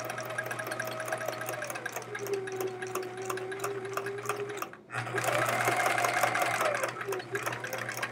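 A sewing machine stitches quilt fabric in a steady, rapid mechanical run with a low motor hum, pausing briefly midway before resuming at a slightly louder pace.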